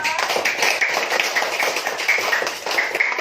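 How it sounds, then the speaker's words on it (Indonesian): Students in a classroom clap together for a presenting group, a brisk, rhythmic patter of many hands at close range with no talking over it. "berikan tepuk tangan untuk kelompok 4"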